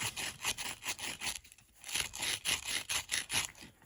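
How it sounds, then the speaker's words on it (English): Chisel scratching a pocket into a freshly set concrete bonsai pot, a series of rhythmic rasping strokes, close and fairly quiet, repeating about twice per second. "you're kind of making a pocket that chisel sits in. And you just scratch it out."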